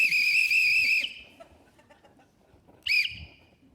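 A police whistle gives two shrill, piercing blasts, the first held for about a second and the second shorter, both loud and close with quiet background between them.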